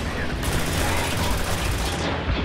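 Gunfire during a co-op firefight in the video game Spec Ops: The Line, a loud, dense barrage of rapid automatic shots and booms that fills the whole stretch with no pause.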